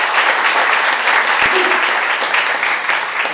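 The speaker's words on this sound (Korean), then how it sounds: "박수 한번 부탁드리겠습니다." Audience at a book concert in Gyeongnam claps steadily and loudly in a dense, even burst that carries through the whole moment, with one sharp knock partway through.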